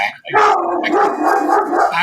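Dogs bark and yip close by in quick, overlapping bursts, loud and excited, filling the short moment.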